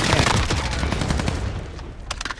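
An M4A1 rifle fires in a video game in a rapid, loud automatic burst of close shots that tapers off near the end.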